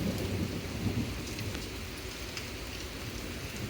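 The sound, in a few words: thunderstorm with rain and thunder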